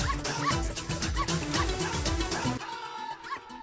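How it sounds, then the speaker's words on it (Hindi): A dog barks repeatedly in quick loud bursts, close by, with yipping and whimpering notes mixed in, then it drops to quieter background noise. "इस कुत्ते से बचाओ।"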